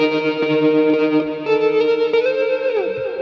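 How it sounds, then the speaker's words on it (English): Electric guitar played through a VST amp rack with tremolo and studio delay in Cubase, distorted, pulsing notes with trailing echoes and a sliding phrase near the end, loud and alone. "So I have the VST amp rack right here, I also have a tremolo, and I have the studio delay."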